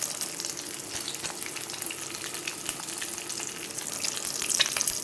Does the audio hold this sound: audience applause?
no